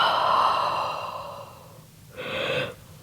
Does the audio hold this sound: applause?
no